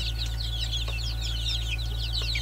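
Pure Zampen chicks and chickens cheep and cluck in a dense, steady chorus of high peeps over a constant low mechanical hum.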